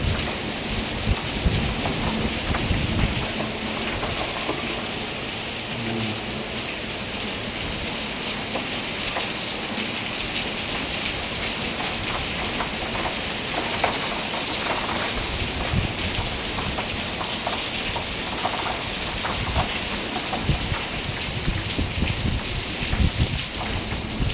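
Heavy rain pours down steadily during a thunderstorm near a dog pen, a dense, continuous hiss of water drumming on surfaces that stays loud from start to finish, with no voices.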